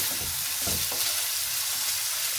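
Shrimp sizzling loudly in a pan for Tuscan butter shrimp, a dense close hiss with a few soft knocks as the pieces are flipped.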